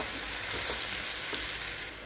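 Okra (bendakaya) fries and sizzles steadily in a pan while being stirred, a continuous close hiss with faint scraping, no talk.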